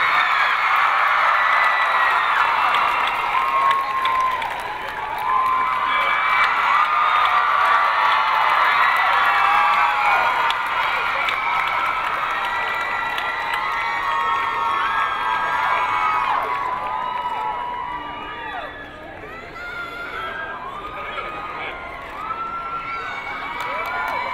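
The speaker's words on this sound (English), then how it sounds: "Please join me in welcoming the three leads of the Twilight Saga film: Kristen, Stewart, Robert Pattinson, and Lau" A Comic-Con 2011 crowd welcoming the three leads of the Twilight Saga film: loud, sustained cheering, screaming and applause from a large audience, easing down toward the end.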